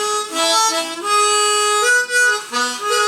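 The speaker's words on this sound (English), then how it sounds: "Again, you can hear the leakage." A cheap harmonica plays a short run of sustained, reedy notes and slides, loud and close, with some breathy air around the tones.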